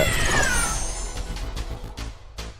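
A cat meows as a sound effect in a Tamil action audio drama, one drawn-out rising cry followed by a few short fainter sounds.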